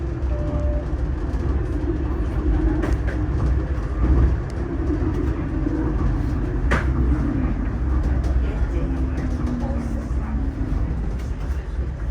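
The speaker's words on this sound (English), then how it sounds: "we're on the 512 St. Clair streetcar traveling east" Riding inside the 512 St. Clair streetcar heading east, a steady low rumble and rolling wheel noise fills the whole stretch, with occasional squeals, clicks and rattles from the car.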